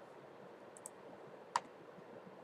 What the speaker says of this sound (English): I'm clicking on next.